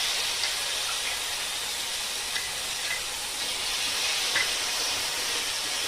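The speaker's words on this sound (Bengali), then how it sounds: "পাঁচফোড়নটা একটু ভাজা হয়ে যাওয়ার পর এর মধ্যে আমি সরষে বাটাটা দিয়ে দেবো" Mustard paste sizzles in hot oil with panch phoron, a continuous hissing fry with faint occasional pops, steady and close throughout.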